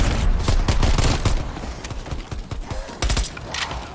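Rapid pistol gunfire in Call of Duty Black Ops Cold War Zombies: a burst of sharp, loud shots in quick succession, then a short pause and a few more cracks.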